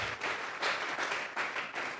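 Congregation clapping during a church service, a faint, rhythmic wash of applause in repeated bursts with no talk over it.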